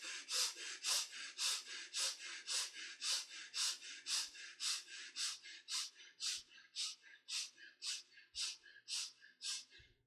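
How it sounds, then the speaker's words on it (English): A person does a quick, short, gentle chest breathing exercise, with rapid rhythmic breaths, around twenty of them, steady and close, and no talking. "start chest breathing, quick, short and gentle breathing with an expansion and squeezing of the rib cage"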